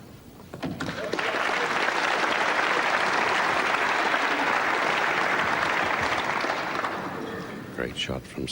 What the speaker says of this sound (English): Great shot from Steve and immediately applauded by Gary.